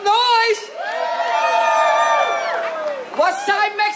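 A street celebration crowd on 86th Street in Brooklyn, New York roars and whoops in a sustained, loud swell of many voices, dipping briefly before fresh shouts rise again.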